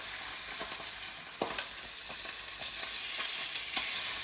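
A piece of bacon fries in a pan with steady sizzling and crackling, sharp pops standing out now and then, heard close and alone without talk.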